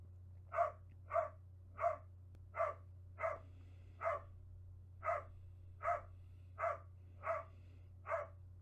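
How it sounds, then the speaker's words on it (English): A dog barks from another room in a steady series of about a dozen evenly paced, muffled barks over a low constant hum, distant-sounding and with no talking. "Yeah, it's literally picking up every bark."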